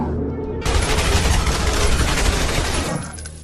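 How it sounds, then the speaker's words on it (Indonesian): A sustained burst of rapid gunfire erupts in an action movie shootout as bodyguards fire nonstop at their target, a loud, dense roar of overlapping shots lasting over two seconds before trailing off. "3 orang bodyguard andalan Malenkov muncul dan tak berhenti melepaskan tembakan ke arah Brian"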